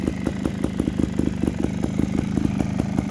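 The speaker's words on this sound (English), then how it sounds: "This is the first fire up. Idle's really good." A freshly rebuilt engine idles cold right after its first start, a steady close putter of even rapid pulses with no voices over it.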